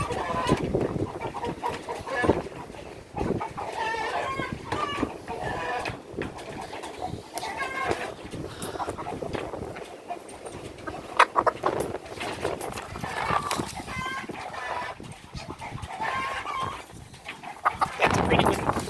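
Domestic fowl clucking and fussing while being handled and loaded into the back of a truck, repeated near clucks and squawks mixed with handling noise and someone speaking over them, plus a brief dog-like call.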